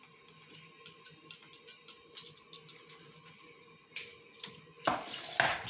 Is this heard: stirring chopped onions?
yes